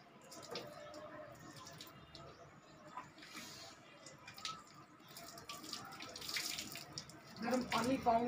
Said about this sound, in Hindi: गर्म पानी पाँव में पड़ रहा है।